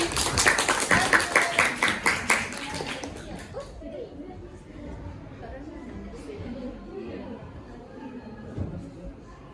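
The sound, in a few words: classroom applause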